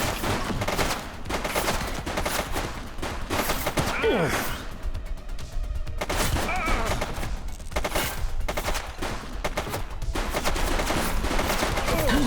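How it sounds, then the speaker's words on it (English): Rapid gunfire bursts in The Precinct, a police video game, crackling in dense volleys over a dozen seconds with a short lull in the middle, loud and close, with faint vocal sounds mixed in. "He's shooting!"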